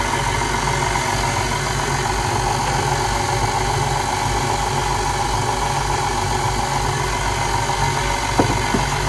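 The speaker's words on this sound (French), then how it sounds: "Et on va pétrir notre mélange comme ça pendant quelques minutes, que tout soit bien mélangé." A stand mixer running on first speed kneads cinnamon roll dough, giving a loud, steady, unbroken motor hum with a rhythmic low churning throughout.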